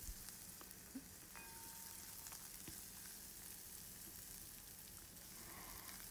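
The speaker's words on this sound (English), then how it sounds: "And I'm gonna add my chopped up garlic and onion to some heated oil and let that just saute a bit and stir it around." Chopped garlic and onion sauté in heated oil for a coconut curry fish: a soft, steady sizzle and crackle continues throughout, faint and even, with occasional light stirring clicks and no talking.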